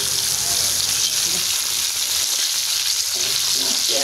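Carp fish fries in hot oil on a griddle, producing a loud, dense, continuous sizzle heard close up with no talking.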